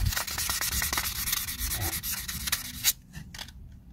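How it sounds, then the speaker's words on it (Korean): Sandpaper scrubs hard against the smooth, mirror-like platter of a hard disk in rapid, uneven strokes, close and gritty, then stops abruptly near the end with only faint rustles after. "이 사포를 이용해서 이렇게 문질러 버리면은 이게 겉에 표면이 다 지금 손상이 돼 버렸잖아요"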